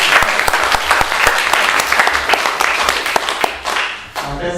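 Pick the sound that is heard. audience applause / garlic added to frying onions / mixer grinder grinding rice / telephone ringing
audience applause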